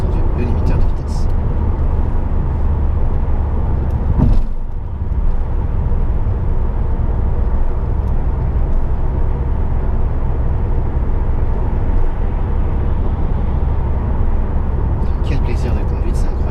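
A 2011 Peugeot RCZ 1.6 THP cruises at highway speed, around 110–130 km/h at about 2800 rpm, with a steady, loud, unbroken cabin drone of engine and road noise and a brief dip partway through.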